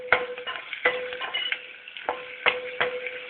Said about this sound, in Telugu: ఇప్పుడు వీటిని వేయించుకుందాం.